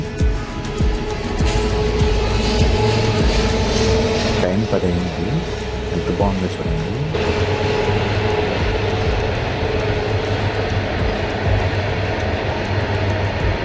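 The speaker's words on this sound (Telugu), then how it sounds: "చూడండి ఇంకో ట్రైన్ అయితే వచ్చింది" A long train passes nearby in Araku with a loud continuous rumble and rhythmic rattling of wheels, while a person talks over the noise.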